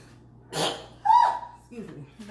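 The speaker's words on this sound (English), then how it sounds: "Of course, I'm gonna sneeze, but this stuff done went up my freaking nose" A single close sneeze bursts out during cooking, followed by a short voiced sound and breathy noises.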